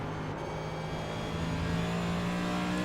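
Race car engine droning steadily at high revs after a double downshift during a winter series race, a sustained buzzing whine with little variation, moderately loud and continuous.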